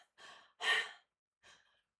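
A voice imitates panting with three breathy, airy exhalations, the middle one longest and loudest, separated by short gaps of silence.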